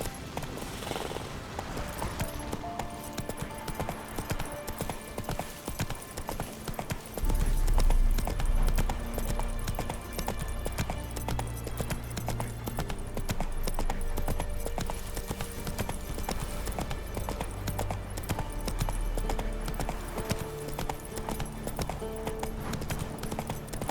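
Hooves of the horse Roach clop in a steady trotting rhythm through The Witcher 3 game, continuous and mid-distance, layered over game music and ambience, with a low rumble joining partway.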